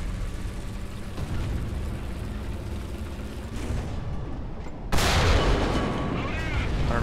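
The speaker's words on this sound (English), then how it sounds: "T-92 shooting at stuff." Tank cannon fire in War Thunder realistic battles: one loud, sharp boom bursts out about two-thirds through, ringing over a continuous engine rumble.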